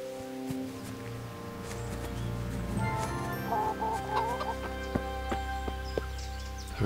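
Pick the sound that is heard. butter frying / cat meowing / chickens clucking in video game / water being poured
chickens clucking in video game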